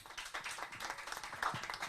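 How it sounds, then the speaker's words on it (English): Audience claps to welcome an illustrator at a colouring book event, a modest, fairly quiet patter of hands lasting a couple of seconds. "Give a warm round of applause"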